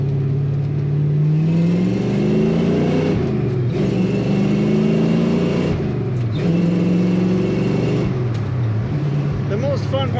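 A 1967 Ford Mustang Coupe's engine pulls through repeated rising revs as it accelerates, close and steady with gear-change dips, heard from inside the moving car.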